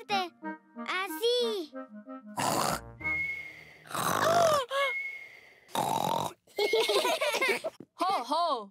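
A cartoon pig character's voice mimics loud snoring in bursts of snorts and grunting breaths, mixed with a child's speech, giggles and other cartoon voices in quick alternating turns.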